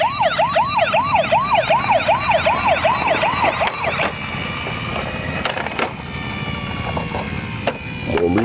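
A Porsche 911 police car siren wails loudly and up close, its rising and falling sweep repeating steadily for about four seconds before fading into general traffic noise.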